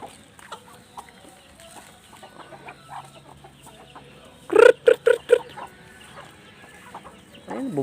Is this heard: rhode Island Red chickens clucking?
yes